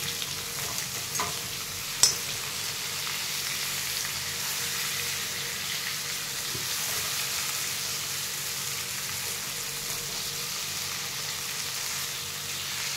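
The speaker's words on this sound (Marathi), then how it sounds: "बघा आता 2-3 मिनिटं झाले की मी टमाटर असं हलवून घेऊ." Tomatoes cook in a pan for a Marathi tomato bhaji, a soft steady sizzle with a spoon stirring through them and one sharp clink against the pan early on, heard close with no talking.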